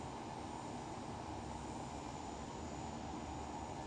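A DHC-6 Twin Otter twin-engine turboprop in X-Plane 11 runs a steady, even engine drone as it gathers speed, close and constant with no voices.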